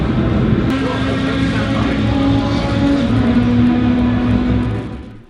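GT1 race cars circulating on track at Goodwood's 75th Members' Meeting, a steady loud engine drone with sustained tonal whine and no clear passes, fading at the end.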